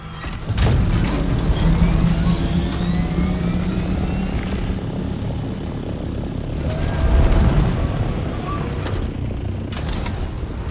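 A player's chopper aircraft in the video game Dune Awakening makes a loud, close engine and rotor drone that runs throughout, with whooshing swells rising and falling around it. No one talks.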